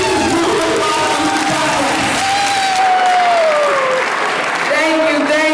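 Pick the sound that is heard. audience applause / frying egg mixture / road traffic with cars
audience applause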